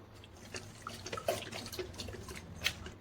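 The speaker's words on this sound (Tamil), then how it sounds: "இப்போ நான் இதில் இருக்கிற தண்ணியை வந்து வடிக்க போகிறேன்" Water splashes and trickles out of a pot of cooked brinjal and tomato, with soft drips and gurgles at close range, quiet and brief.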